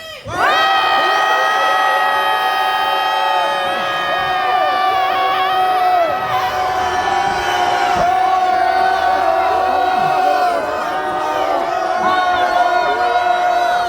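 A crowd at a rally against impeachment roars in sustained, loud cheering and shouting, mixed voices and whoops holding steady for over ten seconds without a break.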